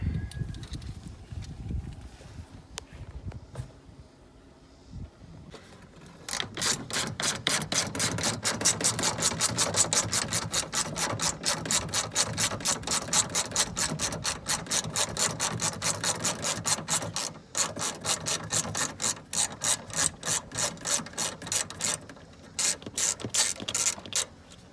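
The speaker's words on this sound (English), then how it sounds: "I'll pull the shroud off the radiator. And need a wrench for that." Ratchet wrench loosening the radiator shroud bolts on a 2002 Chevy Tahoe: a long, fast, steady run of close, loud clicking pawl strokes after a few seconds of quieter handling noise, with short pauses near the end.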